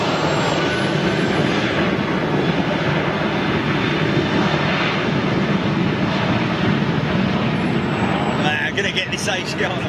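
An Asiana Airbus A380 departs, its jet engines a loud, continuous roar that dominates throughout, with a voice speaking over it and faint clicks near the end.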